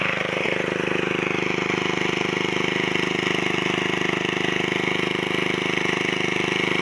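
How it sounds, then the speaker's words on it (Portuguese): A Branco VD710 5 hp diesel engine driving a self-priming water pump runs at a steady, unbroken chug throughout, close to the microphone, with strong constant tonal hum and no pauses. "Motor Branco VD710, 5 cavalos."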